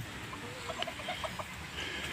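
Chickens in a netted pen give a few faint, scattered clucks over a steady background hiss. The calls are brief and soft, with no voices.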